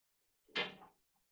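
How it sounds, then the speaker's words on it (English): A steel door with a lock being opened in an old county jail: a single short scraping clunk that swells and fades within about half a second, faint and isolated in a quiet room. "Another metal door with another lock."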